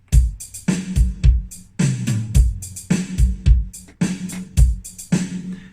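A Roland SD90 sound module plays punchy electronic drums in a steady groove, deep kick thumps alternating with sharp snare and hi-hat hits, loud and close with no talking.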